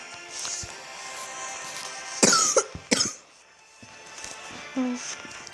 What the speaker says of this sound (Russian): извините за кашель